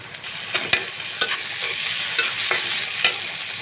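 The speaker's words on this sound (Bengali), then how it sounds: "এখন আমি আদা বাটা রসুন বাটা দিয়ে দেবো আমি 1 চামচ।" A steady sizzle of onions with ginger and garlic paste frying in a pan, punctuated by several sharp taps and scrapes of a spoon stirring.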